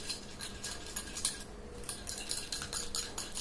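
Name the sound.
spoon whisking yogurt paste in a bowl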